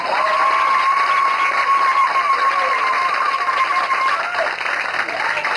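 A church congregation at an evangelism campaign bursts into loud, sustained applause and cheering, a dense wash of clapping and voices that holds steady for several seconds, with a long whistle-like tone riding on top.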